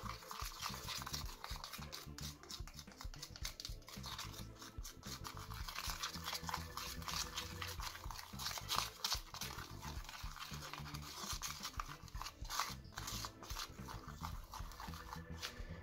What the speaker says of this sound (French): Donc il faut bien mélanger jusqu'à qu'il n'y ait plus de petits grains de sucre.